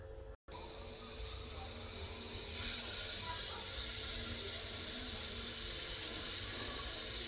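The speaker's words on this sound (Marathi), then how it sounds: "हे बघा, कुकरच्या 4 शिट्ट्या झालेल्या आहेत।" A pressure cooker on a gas stove, cooking a dry cowpea curry, releases a long, loud, steady hiss of steam after a brief silence, with no talk.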